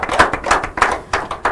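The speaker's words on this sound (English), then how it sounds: "If you agree, a warm round of applause." Audience at an inter-collegiate quiz and debate competition clapping, a quick run of close, sharp hand claps in a steady rhythm.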